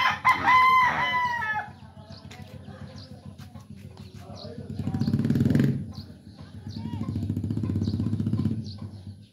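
A rooster crows loudly up close at the start, followed by lower clucking and fowl chatter from a neighbour's fighting cocks in Barancuag village, Dagupan, with a rumbling engine-like drone underneath.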